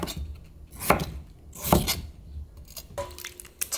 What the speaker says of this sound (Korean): 연근도 이렇게 모서리가 나게 썰어주세요